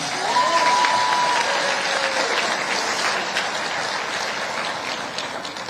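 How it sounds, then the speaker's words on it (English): A sustained round of applause from a crowd, steady and dense clapping that continues throughout at a fairly loud level. "If I can get a round of applause, please."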